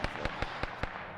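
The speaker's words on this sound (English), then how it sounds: "Where are the gunshots?" Five sharp, evenly spaced video-game gunshots in Arma 3 crack in quick succession, each a sudden broadband burst, fairly loud against a low background.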